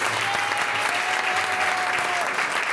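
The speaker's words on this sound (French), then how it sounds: "Est-ce qu'on peut acclamer Jésus?" Church congregation applauding steadily throughout, a dense continuous clapping with a faint sustained tone running beneath it.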